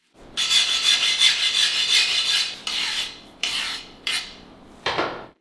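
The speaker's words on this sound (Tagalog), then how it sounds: "Susubukan ko itong i-file test, huling beses na." A file scrapes across a forged steel sword blade, modelled on a legendary katana, to test its hardness: one long continuous rasping stroke followed by four shorter, sharp strokes, close and fairly loud.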